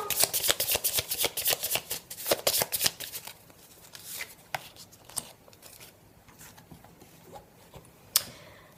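Small tarot-style cards are shuffled and laid out for a reading, producing a rapid run of crisp flicks and riffles that thin into scattered, softer card slaps and taps, close up.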